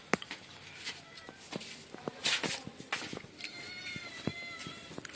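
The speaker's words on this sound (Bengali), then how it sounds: "ওই দেখো ম্যাও কথা বলছে" A domestic cat meows several times at close range, its short cries mixed with soft footsteps and light household knocks, with no talk over it.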